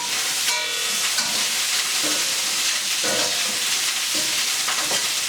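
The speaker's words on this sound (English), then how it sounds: "We're going to stir all this up." A spoon stirs Herbs de Provence and turmeric into a simmering chicken soup, with scraping strokes over a constant bubbling, sizzling hiss close by.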